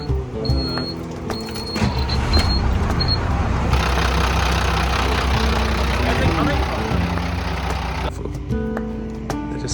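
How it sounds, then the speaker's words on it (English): A bus diesel engine idles at a border crossing in Honduras, a steady low rumble that is running throughout and swells louder in the middle before settling, with brief high beeps early on. "So I'm going to turn the engine on and have a look"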